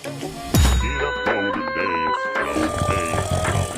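A doorbell sounds in a home with one sharp ringing chime that decays slowly, followed by people talking over lingering tones.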